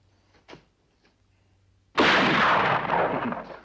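A single loud rifle shot cracks out at a target in an open outdoor setting, a sharp burst with a long rolling decay after a few faint clicks and near silence.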